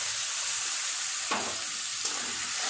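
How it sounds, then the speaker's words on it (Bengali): A steady sizzling hiss of ginger, garlic, onion and tomato paste frying in a hot pan, with a couple of soft scraping stirs. "খুব ভালো করে নেড়ে নেড়ে এটা ভেজে নেব।"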